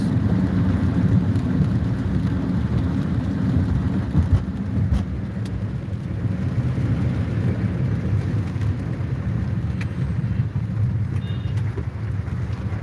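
Heavy rain drums steadily over a car on Hyderabad's Outer Ring Road at night, with a constant low road and engine rumble underneath and no voices.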